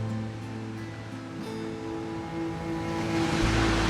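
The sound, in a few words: heavy rain and flooded river water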